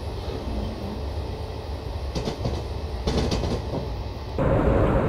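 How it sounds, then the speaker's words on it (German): Freight train wagon from a BR151 locomotive consist rolls back onto the main track in a train simulator game, a steady low rumble of wheels on rails with faint clicks, swelling louder near the end. "schauen, wie der letzte Waggon aufs Hauptgleis wieder fährt"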